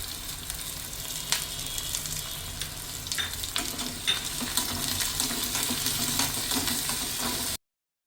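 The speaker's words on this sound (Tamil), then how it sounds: "இது நல்லா கோல்டன் ப்ரௌன் ஆகிற வரைக்கும் வணக்கணும்." Chopped onions and green chili sauté in oil in a pan for a mutton and drumstick gravy, a continuous close frying hiss with scattered stirring clinks and scrapes.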